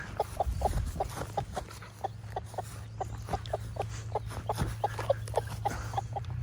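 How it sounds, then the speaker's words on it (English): An old hen clucks in a quick, steady series of soft, close clucks over a low background hum in a garden. "This is our oldest chicken."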